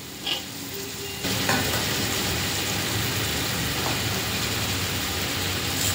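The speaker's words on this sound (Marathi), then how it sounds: "आणि आलं, लसूण, मिरची छान परतून झाली की याच्यामध्ये भाज्या टाकायच्या आहे।" Vegetables go into ginger, garlic and green chilli frying in a large pan for a veg pulao, with a few clatters at the start and then a loud, steady, close sizzle, no voices.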